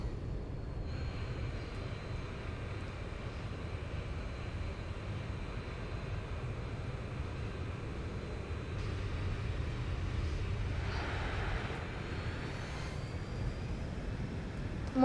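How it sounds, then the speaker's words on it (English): Airliner landing in the X-Plane 11 flight simulator game, a steady loud engine and rushing wind roar running throughout with a brief brighter swell near the end. "here is the landing."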